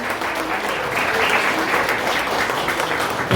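Audience applause fills a club happy-hour gathering, steady dense clapping at close range lasting a few seconds without pause, with no speech over it.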